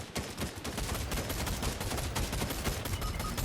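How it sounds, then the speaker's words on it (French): A burst of gunfire in Fortnite, rapid repeated shots forming a dense clattering stream over a noisy game background, fairly even in level across the whole stretch. "Putain y'a un mec qui rafale."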